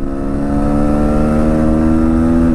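A Bajaj Pulsar NS200 motorcycle accelerating through the gears on a top-speed run, its engine a loud, steady drone whose pitch climbs slowly, heard up close with no voices over it.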